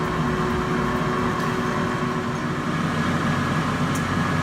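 A Power Air Fryer cooking hamburgers hums with a steady, loud motor and fan drone, continuous and unchanging, with a faint tick now and then.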